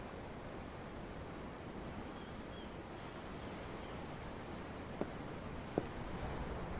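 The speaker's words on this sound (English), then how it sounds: "The ocean? Yeah. The waves." Ocean waves wash steadily beside a ship's deck in Tales of Arise, a soft continuous surf with light wind and two faint knocks near the end, no talking.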